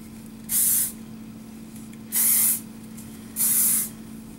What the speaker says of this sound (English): This is some serious hairspray right here